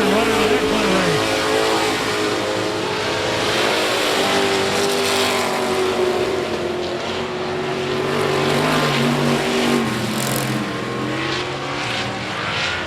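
A street stock race car roars to the finish of the main event at I-37 Speedway, its engine loud and sustained, with other engine noise and a crowd around it.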